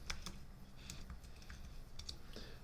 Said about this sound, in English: I'm going to type extrude